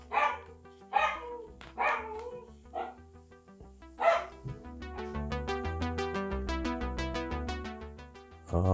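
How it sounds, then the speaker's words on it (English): A dog barks at the door indoors. Several loud, separate barks come first, then a long run of rapid, rhythmic yips or whines that repeat evenly until the end. "Oh, there goes the dog."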